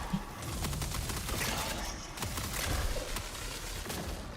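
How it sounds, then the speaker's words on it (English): Video game reactor core going critical, a dense run of rapid booming blasts and crackling bursts, loud and continuous like heavy gunfire with no one talking. "And those booms you keep hearing is the core down here going like"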